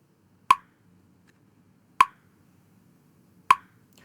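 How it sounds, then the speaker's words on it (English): Slow metronome ticking: three sharp, evenly spaced clicks about one and a half seconds apart, clear and close over a faint low background hum. "We're going to be using a metronome to assist us. It's going to sound like this."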